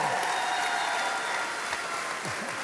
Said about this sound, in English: Let's give it up for him one more time.